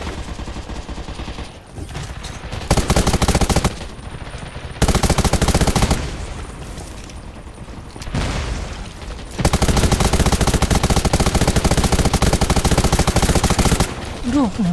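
Automatic gunfire in the mobile shooter Undawn: loud, sustained bursts of rapid shots several seconds long, separated by short pauses with quieter game sound and a voice talking.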